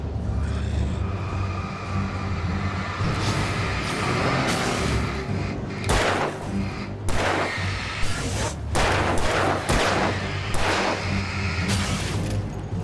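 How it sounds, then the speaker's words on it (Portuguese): Repeated gunshots from a firearm in the game Alan Wake Remastered, a string of loud sharp cracks spaced irregularly over a steady low droning background, with no talk. "Atira a porra da arma."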